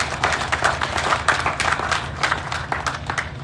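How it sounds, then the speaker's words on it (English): An audience gives a round of applause at the opening of Sierra Leone's first Foreign Service Academy, a four-storey building, with a steady wash of hand claps filling a hall for several seconds. "And I kindly ask that we give CRSG a round of applause."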